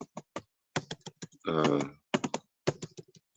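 Sharp, close key clicks on a computer keyboard come in uneven bursts and pauses, broken by a brief stretch of something else in the middle.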